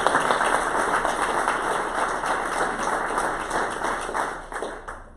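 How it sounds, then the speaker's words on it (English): An audience at a kickoff event gives a loud, sustained round of applause, a dense wash of many hands clapping that holds steady for several seconds before thinning out near the end. "That deserves a round of applause"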